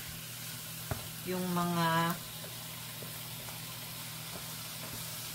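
Chicken for adobo fries in its own rendered fat, a faint steady sizzle with occasional stirring clicks while someone talks and a brief tonal hum passes.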